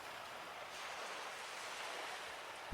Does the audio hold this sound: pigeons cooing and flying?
no